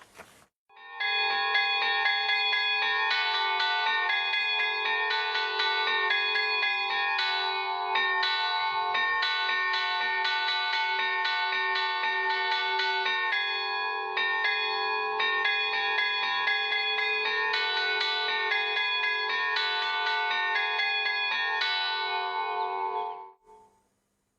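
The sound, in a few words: traditional Niçois bells struck to play melodies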